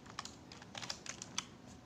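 Rapid, irregular clicking of a computer keyboard as Unity C# game code is typed, with close, fairly quiet keystrokes in uneven bursts and no talking.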